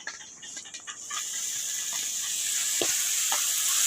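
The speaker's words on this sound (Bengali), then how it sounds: "এবার আমি দিয়ে দেবো যে সেদ্ধ করা কচুর ফুলটাকে।" Boiled taro flowers drop into a pan of frying spice mix and the sizzle swells into a loud, steady hiss that builds and holds, close and alone with faint stirring scrapes early on.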